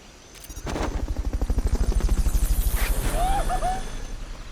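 A helicopter in Metal Gear Solid: Peace Walker, a loud, close rotor chop with a steady rapid beat that builds in and then fades slightly, with a brief chirping tone near the end.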